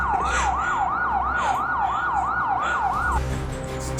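Wailing siren with a rapid repeating rise-and-fall sweep, steady and loud for about three seconds before cutting off, over low vehicle rumble.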